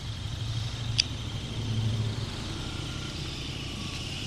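A 2022 KTM 200 Duke motorcycle engine drones steadily at full throttle while riding, a continuous low hum over wind rush, with one brief sharp click near the start.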